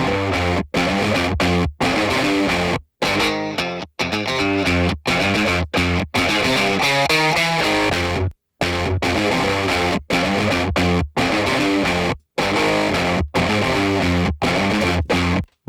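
An electric guitar runs through a Neural DSP Morgan amp simulator with the master pushed for fat, woolly output distortion, playing loud sustained chords broken by repeated short gaps, with no talking.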